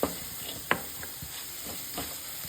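Egg keema fries in a pan with turmeric, salt and pepper, a soft continuous sizzle and hiss with a few brief stirring clacks, close but fairly quiet, no voices.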